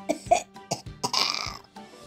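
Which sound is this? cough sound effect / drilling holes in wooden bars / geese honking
cough sound effect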